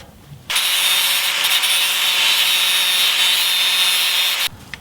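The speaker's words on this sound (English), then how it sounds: "you want to take a grinder and just smooth those welds out" An angle grinder smoothing welds on a Jeep ZJ coil spacer grinds metal in one steady, loud, close pass of about four seconds, starting and stopping abruptly.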